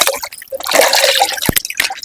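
Raw chicken being washed in a bowl of water gives off brief close splashes, drips and trickles, with a couple of sharper splashes near the end and no talking.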